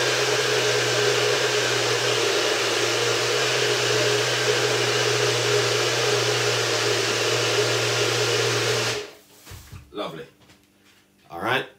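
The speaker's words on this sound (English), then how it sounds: "So we'll just give this a blend for a second again." A very powerful blender whirs loudly and steadily as it purees Jamaican June plum for juice, a constant close roar that cuts off abruptly, followed by brief kitchen clatter and a voice speaking.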